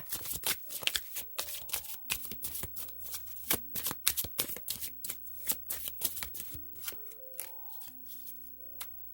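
Tarot cards shuffled by hand for a love reading: a long run of quick riffling flutters and soft card snaps, close and fairly loud, with no talking.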